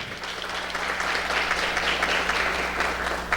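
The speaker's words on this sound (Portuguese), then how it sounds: "Eu quero uma salva de palmas para o Tita Belloli e para o Ademir, que estão aqui prestigiando." Steady round of applause from an audience at a public hearing in a municipal council chamber, dense overlapping clapping with a low hum underneath, moderately loud throughout.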